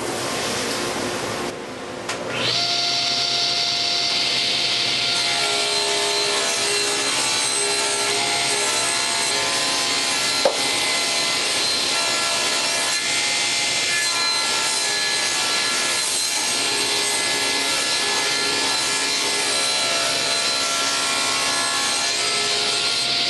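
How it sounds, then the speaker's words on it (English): A table saw cuts wood for a collectables cabinet, its blade set half a tooth above the material. The blade spins up, then holds a steady, loud, continuous whine and rasp of cutting for about twenty seconds, close and with no talking. "we've already preset the blade so that it's a half tooth above the material to give us an optimum cut"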